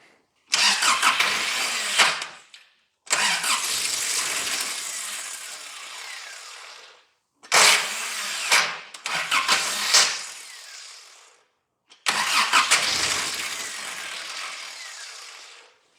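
A Daihatsu Rocky engine is cranked several times using aerosol starting fluid. Each loud, close burst of cranking lasts a few seconds, with short silences between the attempts.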